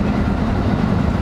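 A JR train pulls into a station platform in Japan: a loud, steady rumble and roar of wheels and engine fills the whole short stretch, with no voices over it.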